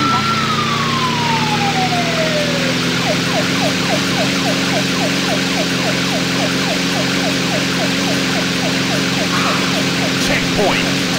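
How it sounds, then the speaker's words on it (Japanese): Police car siren from the arcade racing game Thrill Drive 2, rising and falling steadily and fairly loud over a continuous engine drone, with a pulsing warble that keeps on through the whole stretch. "パトカーが接近し"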